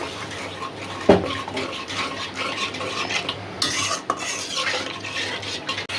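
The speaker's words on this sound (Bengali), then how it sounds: "আমি একটু পানি দিয়ে দিই সুন্দর করে কষাই" Country chicken being stirred and sautéed with spices in a pot, a steady scraping of the spoon against the metal with clinks and a faint sizzle underneath. It sounds close and moderately loud, with no talking.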